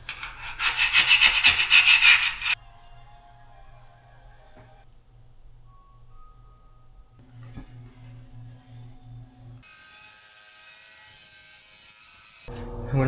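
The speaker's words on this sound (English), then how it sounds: "We're going to start with the big scraper." A big tile scraper rasps across a freshly laid bathroom floor tile during grout work, a dense burst of scraping strokes for about two seconds, followed by quiet handling sounds and a low hum.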